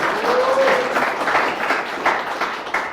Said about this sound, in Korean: 저에게도 박수 한번 해주시기 바랍니다.